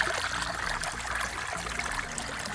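A trickling stream at a water source beside a hiking trail on the Pacific Crest Trail, a steady close babble and splash of running water with no voices.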